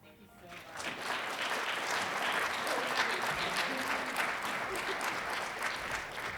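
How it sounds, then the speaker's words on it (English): Loud, sustained applause from an audience at an award ceremony, steady clapping swelling in after a brief quiet start and continuing throughout. "Let's give one more round of applause"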